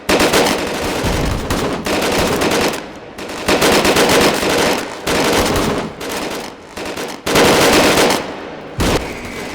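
Machine guns on an enemy in the VR shooter H3VR fire in loud close bursts of rapid shots, several volleys separated by short gaps.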